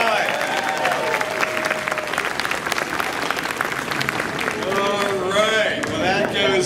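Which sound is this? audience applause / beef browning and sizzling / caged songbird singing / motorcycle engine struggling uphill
audience applause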